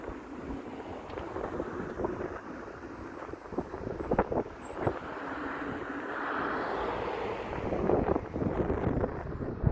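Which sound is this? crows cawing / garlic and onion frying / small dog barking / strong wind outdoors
strong wind outdoors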